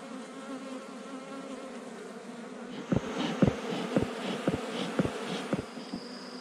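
A honeybee colony being moved into a hive in Paraguay hums in a steady, dense buzz, joined midway by a series of soft rhythmic knocks or scoops close by.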